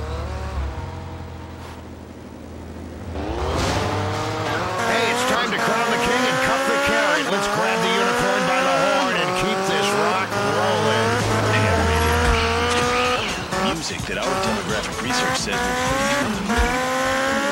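Street race cars from Grand Theft Auto: Liberty City Stories on PS2, engines revving steadily with tire squeal over energetic game music, a voice speaking briefly near the start before the loud racing din takes over.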